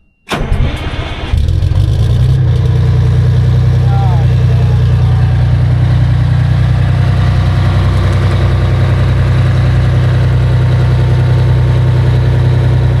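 A 105-foot ladder fire truck's large engine cranks and starts, then settles into a loud, steady low rumbling idle that continues, with occasional voices beneath.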